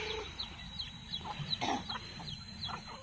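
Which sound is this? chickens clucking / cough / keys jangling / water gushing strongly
chickens clucking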